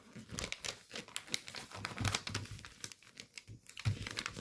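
Origami paper being rabbit-ear folded for a fighter jet model, making close, crisp crinkles and soft creasing taps in short irregular bursts.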